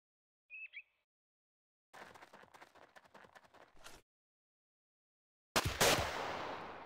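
Gunfire in the video game Jagged Alliance 2: a short blip, then a rapid rattling burst of shots, a pause, and one loud blast trailing off in a long decaying echo.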